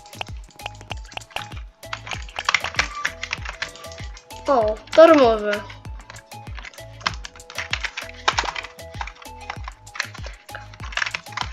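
Computer keyboard keys clicking in quick irregular runs while someone plays a horror game, with a brief squelchy burst partway through and a voice speaking over parts of it.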